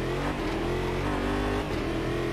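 A Chevy V8 race car engine in the Automobilista 2 racing game revs loud and steady. It gives a dense, continuous roar that dips briefly and then recovers, with no voices over it.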